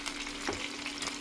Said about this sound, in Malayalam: ചിക്കൻ വറുത്തുകൊണ്ടിരിക്കുകയാണ് അമ്മ.